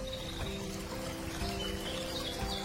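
River water flowing through a forest, a steady close trickle and pour with faint bird chirps above it, even and continuous from start to end.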